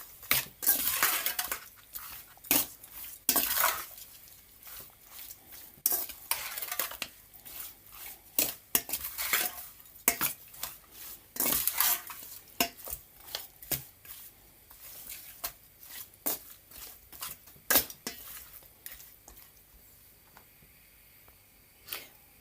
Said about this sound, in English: Now I'm going to mix it up